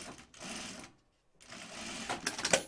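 A sewing machine hems the gusset pockets of a wax cotton bag, whirring in two short runs separated by a brief silence, fairly quiet and close.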